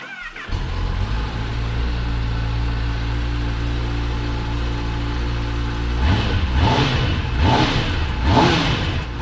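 A 2022 Kawasaki Ninja ZX-10R sport motorcycle idles with a deep steady rumble, then is revved sharply three times in quick succession, each blip rising and falling, close and loud.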